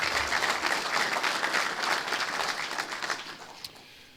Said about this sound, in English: Give them a quick round of applause, if you would, please.